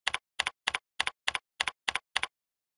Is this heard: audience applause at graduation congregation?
no